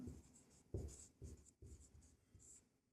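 Pen or chalk writing out a maths solution, a series of distinct scratchy strokes and taps in an uneven rhythm, close and quiet with brief gaps between marks and no talk.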